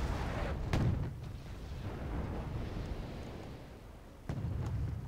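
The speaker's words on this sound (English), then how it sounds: "As they also drop artillery on these guys." Artillery fire in the video game Wargame: AirLand Battle falls on a forest position as a continuous low, distant rumble. Two heavier booms land near the start and near the end.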